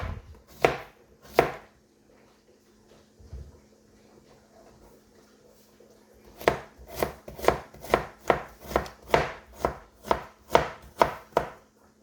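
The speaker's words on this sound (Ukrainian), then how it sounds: "нарізаємо огірочок соломкою" Steady knife chopping of cucumber into strips on a board: two cuts, a pause, then a quick run of about a dozen evenly spaced, close, crisp chops.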